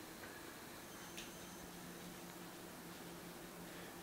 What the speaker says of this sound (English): Air conditioning in this room.